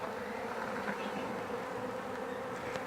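A honey bee swarm being moved into a hive box hums in a dense, continuous buzz, close and steady throughout with a few individual bees briefly louder as they take flight; no talking.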